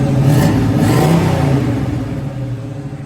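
A restored 1967 Chevrolet Camaro engine revs loudly up close, rising and falling in a throaty roar before settling to a rumbling idle.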